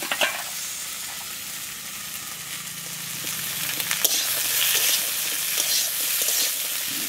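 Okra and fried crab sizzle together in a hot pan, a steady broadband frying hiss that swells slightly partway through, with faint clinks of stirring.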